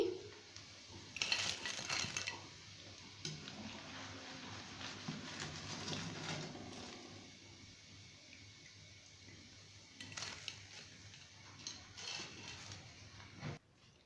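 Crunchy fried chicken lollipops clattering into a serving dish in a home kitchen, with scattered clinks of plates and utensils in short bursts, quiet and close, and a steady low hum underneath.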